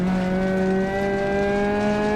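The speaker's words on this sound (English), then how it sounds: "you can hear when I get stuck from the fact that it just goes like all the way to the maximum revs" Rally car engine in a video game screaming at a steady, near-maximum rev, its harmonics sustained and climbing slightly, loud and close with no pauses, on a safari-style rally stage.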